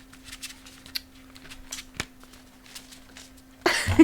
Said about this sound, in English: Let me give the cards a really good shuffle.